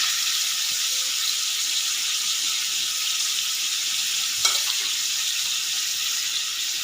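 Bombay duck fish fries in oil in a kadai wok over a high gas flame, a steady, dense sizzle that carries on unbroken, with one brief clink partway through.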